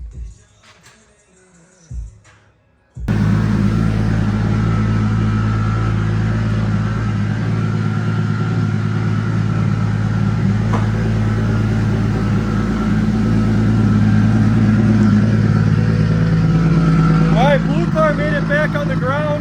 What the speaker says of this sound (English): Silver car is obviously running.